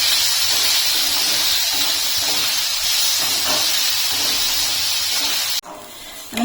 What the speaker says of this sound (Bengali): তখন আমি সব কিছু ভালো করে ভেজে নেব।